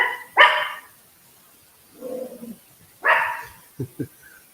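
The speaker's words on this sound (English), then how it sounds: "My dogs." A few sharp dog barks burst out close and loud, separated by pauses, with a softer huff in the middle and two short yips at the end, in a quiet indoor room.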